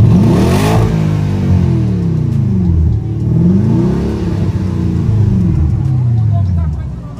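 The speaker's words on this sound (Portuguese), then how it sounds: "Fechar o escapamento. Vamos ver se muda o barulho." Porsche Panamera engine revving with its exhaust valves closed, rising and falling in several close, loud sweeps, with people talking over it.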